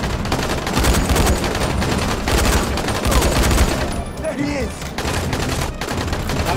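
Dense, continuous gunfire from the video game Dying Light, with rapid overlapping shots and bursts running loud through the whole stretch and a brief dip near the end.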